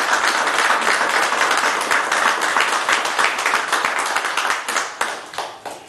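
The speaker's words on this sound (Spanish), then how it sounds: "Por favor, damos un fuerte aplauso." Wedding guests at a Las Vegas ceremony clap steadily as one dense burst of applause, then it thins out and fades into a few scattered claps.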